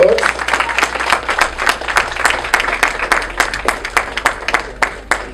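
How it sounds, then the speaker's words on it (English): Audience applause at an ESG award ceremony and dinner as a first-year student is called up: dense, loud, steady clapping from a crowd, sustained throughout with no talk over it. "Javon, a round of applause."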